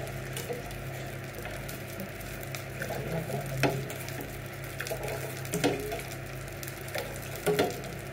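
Soy milk boiling in a pot on a stove gives off a low, steady bubbling simmer with occasional louder pops and small clatters, heard without any talking.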